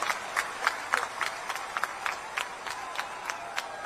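Crowd applause at a political rally in Chhattisgarh greeting Rahul Gandhi as he takes the stage: steady, dense clapping from many hands, with fairly even bursts throughout.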